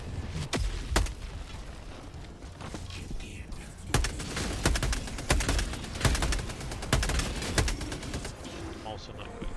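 Bursts of gunfire from the video game Helldivers 2, with sharp shots and rapid volleys cracking repeatedly throughout under a steady layer of in-game noise.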